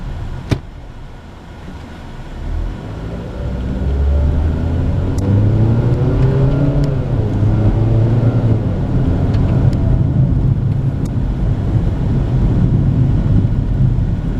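A 2014 Hyundai Accent GLS in city driving, heard from inside the car: the engine hum steadily rises in pitch and volume as it winds out through the gears, with a click at the start and a constant road rumble.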